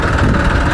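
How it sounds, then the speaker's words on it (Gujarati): A hot farm tractor engine idles after work, giving a close, loud, steady low rumble with faint vibration and no talk over it. "એટલે ગરમ ટ્રેક્ટર હોય ને એટલે ઘડીક એમને ઠાલું હાલવા દઈ ને એટલે ઠંડુ ઓટોમેટિક થઈ જાય."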